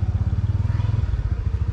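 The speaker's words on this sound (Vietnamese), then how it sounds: "nổ máy lên xe." A motorcycle engine runs close by just after starting, its rapid, evenly pulsing low thump steady and fairly loud with no voices.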